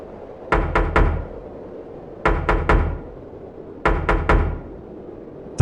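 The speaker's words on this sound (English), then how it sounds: "Then he heard knocking." A knocking sound effect in a horror story: three sets of three hard, hollow knocks on a door, evenly spaced with pauses between groups, close and clear against a quiet background.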